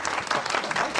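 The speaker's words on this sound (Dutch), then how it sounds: "Applaus." Studio audience applauding at a Belgian sitcom taping, a dense steady burst of many hands clapping for about a second, close and loud with no voices over it.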